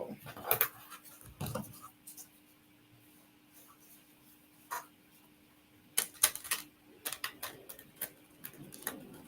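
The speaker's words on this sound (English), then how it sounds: "And one more shuffle." An oracle deck of sturdy, good-quality cards is shuffled by hand in a quiet room, giving soft, sporadic riffling and tapping bursts with pauses between, close but faint.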